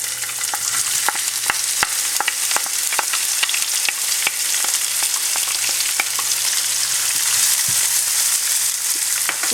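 Onions and cumin seeds sizzle steadily in a hot pan, a dense broadband crackle with frequent sharp pops and occasional stirring clatter, continuous and close throughout.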